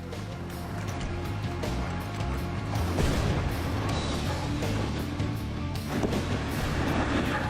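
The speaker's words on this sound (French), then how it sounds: "Le Mirador tombe sans difficulté." A heavy crash and rumbling thud as a prison watchtower collapses during demolition, amid continuous engine noise and clattering debris.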